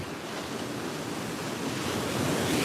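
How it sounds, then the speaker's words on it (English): Surf breaking steadily along a rocky Lake Michigan shoreline, a continuous broad wash of water with wind rushing across the microphone, close and constant throughout. "We don't want the waves."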